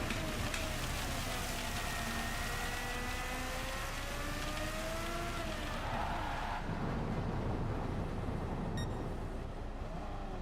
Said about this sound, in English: Oh my god, so we're both kind of screwed because it's raining.